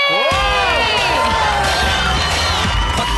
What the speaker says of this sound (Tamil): ஒரு பலத்த கைத்தட்டலோட லெட்ஸ் கிவ் இட் அப்